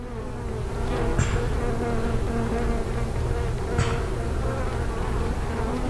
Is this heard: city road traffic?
no